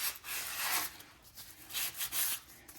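Rust being rubbed and smoothed off the wheel hub of a 2003 VW Passat: close, repeated abrasive scraping strokes in an uneven rhythm, with no talking.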